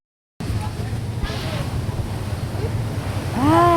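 A river stream at Carmen, Baguio rushes continuously with broad, wind-buffeted noise while a crowd is around, voices audible over the flow and getting louder near the end.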